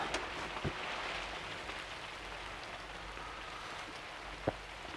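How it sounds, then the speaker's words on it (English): Soft, steady rain falls continuously, a gentle hiss with a couple of close drips landing nearby. "it's really raining"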